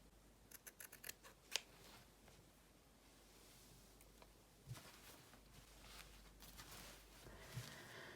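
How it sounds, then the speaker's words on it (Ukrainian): Scissors snipping pulled-out threads while a woman's shirt is being hand-sewn, a few quiet close snips and light handling rustles in an otherwise hushed room, with no voices. "оці витягнуті нитці обрізаю"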